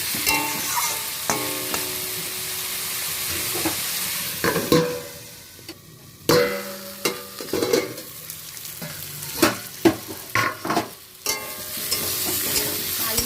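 Green chili and onion, salted, fry in a pan with a continuous soft sizzle, punctuated by repeated sharp scraping and clattering bursts as the mix is stirred, with no voices.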